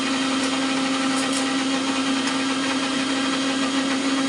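A kitchen mixer grinding batter for kallappam, a loud steady motor whine with a constant hum, unbroken throughout.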